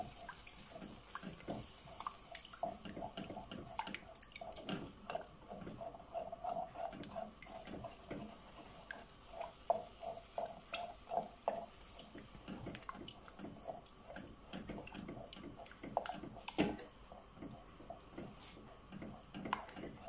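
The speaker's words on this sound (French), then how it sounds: "Et je vais remuer jusqu'à obtenir un mélange homogène sans grumeaux" A whisk or spoon working béchamel sauce in a pan for croque monsieur, with soft wet slaps and scrapes repeating in an uneven rhythm, quiet and close, with no talking.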